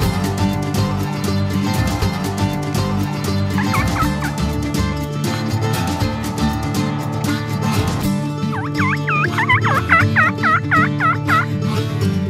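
Wild turkeys call during a turkey hunt, toms and hens together, with repeated rapid gobbles and yelps rising in a clear series toward the end over a loud, dense bed of music.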